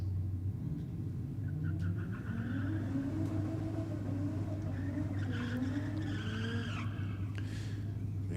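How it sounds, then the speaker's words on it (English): A turbocharged Ford Falcon drag car does its burnout at Sydney Dragway, with tyres squealing and the engine roaring loud and sustained over a deep rumble. The engine revs climb and fall across the whole stretch. "that Turbo Falcon going through its burnout procedure"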